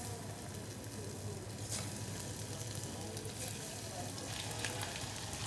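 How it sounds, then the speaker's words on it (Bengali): Marinated chicken pieces for dragon chicken deep frying in hot oil, an even, continuous bubbling sizzle, close and steady throughout with faint clicks from the pan. "এটাকে আমরা এখন ডিপ ফ্রাই করে নেব। চিকেনগুলো একটা একটা করে ছেড়ে দিচ্ছি।"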